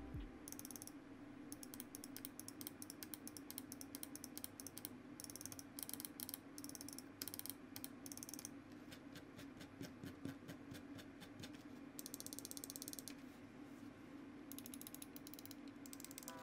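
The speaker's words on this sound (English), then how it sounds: "Now, as for the Aerox 5, this mouse seemed to have the exact same sound like the Aerox 3 across all the buttons and the mouse wheel." Quick, dry clicking from a SteelSeries Aerox 5 gaming mouse as its buttons are pressed and its scroll wheel is rolled, rapid bursts and ratcheting notches heard up close and faint.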